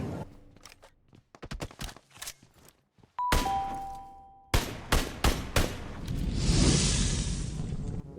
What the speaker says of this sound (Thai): นี่ก็ยิงจังเลย